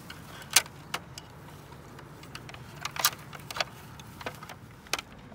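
Keys jangle and click in bright, scattered bursts as people get into an SUV, with small metallic rattles and taps repeating close by over a quiet car interior hum, no talking.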